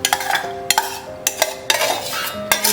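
Cooked, sugar-sweetened pineapple is stirred into pineapple kesaribath in a pan, with repeated sharp scrapes and clinks of a metal spoon against the pan arriving in uneven bursts; no one speaks.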